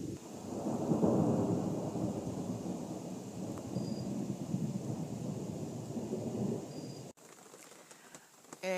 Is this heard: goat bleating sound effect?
no